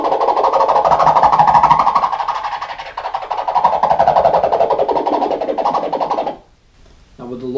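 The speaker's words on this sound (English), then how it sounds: "you can get some cool sounds by moving the filter to the high pass" Vinyl record scratches run through a DJ mixer's high-pass filter, making a rapid, continuous, rhythmic swishing chatter that is thinned and bright, then cuts out briefly before a short final burst.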